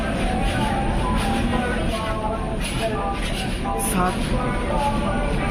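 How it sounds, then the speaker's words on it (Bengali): A Dhauli Express passenger train rolling into Kharagpur Junction, a loud continuous rumble of wheels and carriage noise from on board, with voices talking underneath. "এখন খড়গপুর স্টেশনে ঢুকলো, খড়গপুর জংশনে।"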